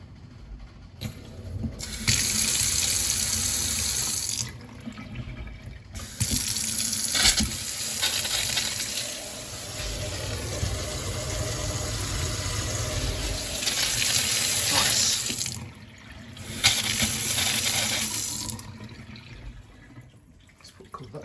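Water rushing and surging through a domestic boiler heating system during a power flush by a plumber, a continuous loud gushing hiss that comes in long bursts and pauses over a steady low hum.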